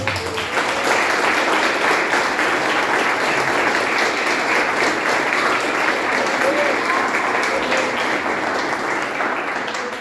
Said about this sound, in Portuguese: Se você pode, aplauda o Senhor.